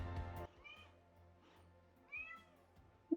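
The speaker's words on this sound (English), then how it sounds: "Do you hear that meowing?" A cat meows twice, faint and somewhat distant, over a quiet room with low background noise and a couple of soft thumps, in the mountains of El Valle de Antón, Panama.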